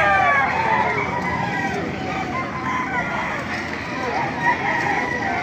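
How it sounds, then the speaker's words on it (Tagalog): Filipino gamefowl roosters of breeds such as Talisay, Blues and Hiraw crow and cluck over a steady noisy yard background, with several calls overlapping throughout. "Papakita ko sa inyo mga magandang manok dito."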